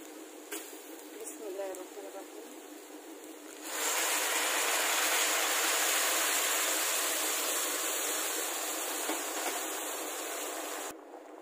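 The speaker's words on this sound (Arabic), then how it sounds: "هنزل عليه بقى بمية سخنة" After a few light clinks, hot water pours steadily onto rice in a cooking pot with a loud, continuous rushing splash that stops abruptly near the end.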